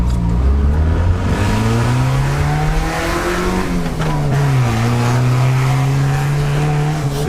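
A Ford Fiesta engine revs hard while accelerating, windows down, its pitch climbing through gears with a dip at a shift, loud and continuous from inside the car.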